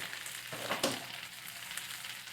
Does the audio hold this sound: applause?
no